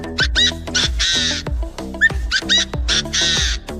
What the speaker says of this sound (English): This is a partridge.